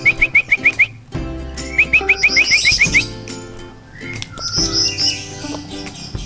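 A captive ashy drongo being hand-tamed and fed crickets gives loud, close bursts of rapid repeated chirps and whistled notes. Quieter tweets and calls fill the gaps between the bursts, and no one speaks.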